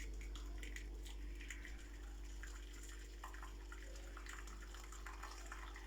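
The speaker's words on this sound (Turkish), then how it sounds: "şimdi kaynatmış olduğumuz suyu böyle fincanların içine kaçırmadan döküyoruz." Boiled water poured from a kettle into a baking dish around cups of soufflé, a steady continuous watery pour running throughout at moderate level with no talk.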